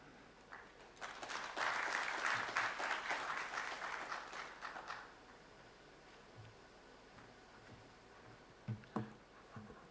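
Audience applause at the Kenya Diplomatic Awards ceremony, a moderate burst of clapping that rises quickly, peaks around two seconds and fades out by five, followed by quiet room tone and a few faint knocks.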